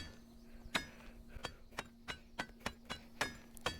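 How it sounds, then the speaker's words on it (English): A hammer strikes a copper blade in the VR game A Township Tale, about a dozen sharp metallic clinks at an uneven, steady pace, each ringing briefly over a quiet background. "So now grab your hammer and just start hitting it."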